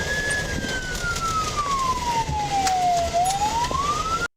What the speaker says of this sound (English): Shout out to having the siren on while going code.